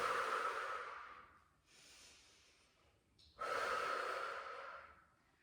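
Deep, audible breaths from a person exercising on a wobble cushion: a long forceful exhale, a quieter inhale, then another strong exhale, close and unaccompanied by speech.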